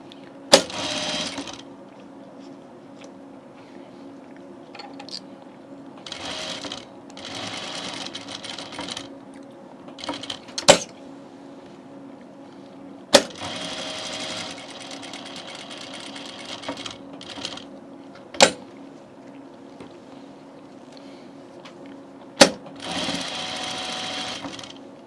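A sewing machine stitches the last seam of a shirt in several short bursts of rapid needle chatter, broken by pauses and sharp clicks or knocks, close-up with no talking.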